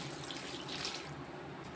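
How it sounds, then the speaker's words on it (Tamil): Water pours steadily into a pot of drumstick and brinjal curry with chana, a soft continuous splashing stream, close and fairly quiet, with no talk. "இப்போ தண்ணி ஊற்றிக்கிடுவோம்."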